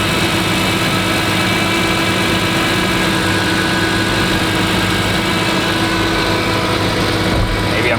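A BMW E46 M3 idles steadily with a dense, constant engine drone and a raspy exhaust edge suggestive of a leak near the headers and resonator, heard close up without pauses.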